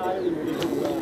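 Allahabadi pigeons give a brief, soft cooing with a low, steady tone, heard up close under a voice.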